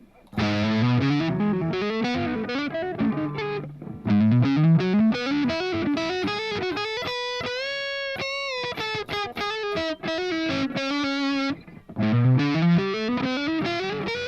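Electric guitar through a Roots amp set low for mild, clean-edged distortion, playing a continuous run of melodic lines and held notes close up, with a brief pause near the end.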